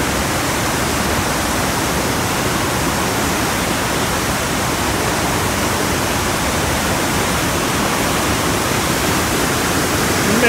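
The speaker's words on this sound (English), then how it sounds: "The river is about to bust out of the seams" A rain-swollen river rushes with a loud, dense, steady roar that stays constant throughout, with no voices over it.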